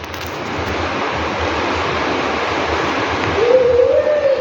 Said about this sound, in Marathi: ते किती घाण पाणी निघते बघा